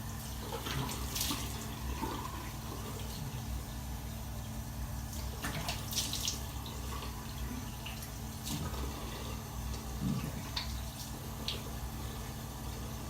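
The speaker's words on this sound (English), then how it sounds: "Now I'm gonna rinse. Now, of course, you just kind of get your two hands into a cup of water" Water splashes softly as cupped hands rinse a face during a dry-eye cleansing routine, with intermittent close splashes and drips over a steady running-water hiss.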